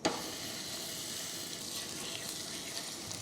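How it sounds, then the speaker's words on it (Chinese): Rolled, tied pork belly for Japanese ramen chashu sears in a pan, producing an even, moderately loud hiss and sizzle after a brief initial burst. "我们来煎一下猪肉。"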